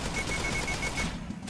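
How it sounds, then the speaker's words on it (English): Gunfire in a Roblox trash game crackles as a dense, continuous burst lasting about a second, loud and close, fading out at the end with no voices over it. "Oh, I just shot Anubis."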